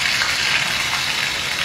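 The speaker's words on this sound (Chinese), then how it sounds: "咱们今天炸一个据说世界上最大的蝎子雨林蝎" A rainforest scorpion deep-fries in bubbling oil at a night market food stall, a loud, dense, steady hiss and sizzle that fills the short moment without pause and without talk.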